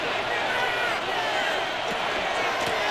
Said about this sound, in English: This crowd into it now as we get to third down.